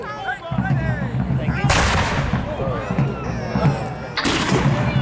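Muskets of a Royalist line fire in rolling volleys at a Tattershall Castle Civil War re-enactment, two sharp, loud cracks spaced apart with rumbling echoes and crowd noise, as a commentator talks throughout.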